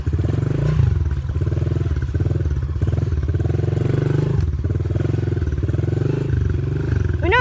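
A dirt bike engine in first gear roars loudly and continuously while riding through mud on a trail. Close and throbbing, its rhythmic pulsing holds steady throughout.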